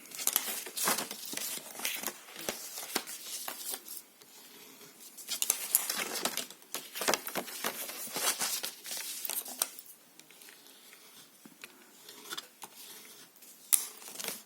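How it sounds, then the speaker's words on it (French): Paper being folded and creased, heard as close, dry crinkling and rustling in irregular bursts with quieter gaps between them. "on va replier, on va faire bien marquer nos plis de partout"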